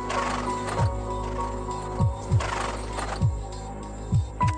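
A horse moves during a training session, with a regular sequence of hoof thuds against a steady background hum and no talk.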